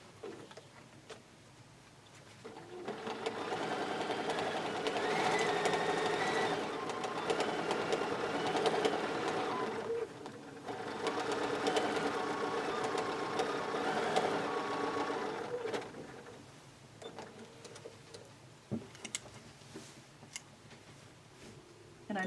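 A sewing machine quilting blocks runs in two long bursts with a short gap between, a close, moderately loud rhythmic whirr that winds down near the end, with no voices.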